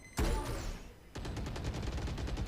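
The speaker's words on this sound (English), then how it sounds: "The suppressive gunfire" A loud blast, then sustained rapid automatic gunfire in the video game Valorant, dense and continuous at close range.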